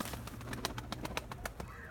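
Grey smoky game pigeon cooing close by in a rapid series of short soft pulses, with faint low background murmur.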